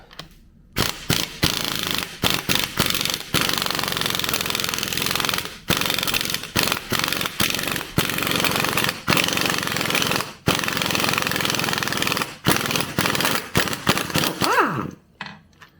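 An impact wrench hammers at the flywheel bolt of a Suzuki DR650 motorcycle in a workshop, in loud repeated bursts with short pauses between them, ending in quiet.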